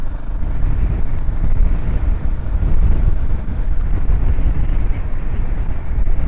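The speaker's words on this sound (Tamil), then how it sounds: "செமையாக காத்தடிக்குதப்பா." Strong gusts battering the microphone on a hairpin-bend mountain road ride from Theni toward Poombarai on a Royal Enfield Himalayan, a loud constant low roar of buffeting with no pauses.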